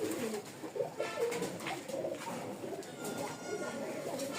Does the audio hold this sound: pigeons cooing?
yes